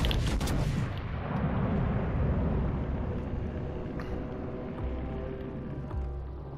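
A battleship in the naval combat game World of Warships Legends fires a broadside, a heavy booming blast at the start that rolls into a long, low rumbling decay.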